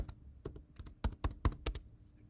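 Key presses on a computer keyboard while an order form is filled in, a short run of irregular clicks that tightens into a quick burst of crisp taps, close and clear in a quiet room.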